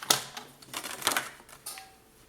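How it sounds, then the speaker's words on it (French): Paper is cut by hand for a scrapbooking folio: a few sharp, close snips and crisp crackles in quick succession, alone and fairly loud. "je vais tout simplement le couper"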